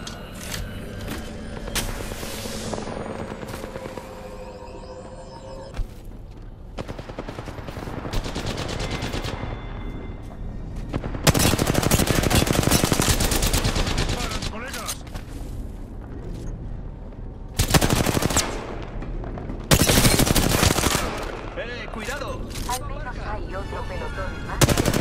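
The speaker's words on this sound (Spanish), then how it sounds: "¡Me están disparando!" Loud automatic gunfire and heavy booming blasts erupt in Apex Legends during a winter express match, coming in intense bursts separated by short, quieter stretches, with voices faintly present underneath.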